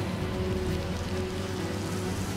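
A rain spell being cast in the video game Divinity: Original Sin, giving a steady, dense hiss of rainfall with a low rumbling bed that holds evenly throughout, with no talk over it.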